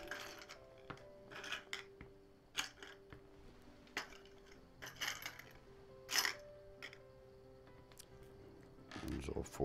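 Small metal screws for a Cooler Master PC build clink and tick as they are handled, giving scattered sharp taps and rattles at a low, close level with brief pauses between them.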